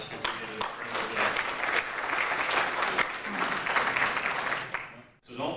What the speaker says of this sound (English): they all deserve a giant round of applause